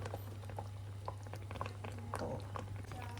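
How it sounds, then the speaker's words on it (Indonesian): Ground spice paste sautéing in a pan, a faint, quiet bubbling sizzle with small scattered pops over a steady low hum. "ini kita tumis sampai bumbunya wangi"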